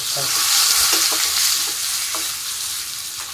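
Onions fry in a pan of chicken chili curry with Kashmiri chili powder and curry leaves, a loud, steady close sizzle with a few soft stirring scrapes and no voices.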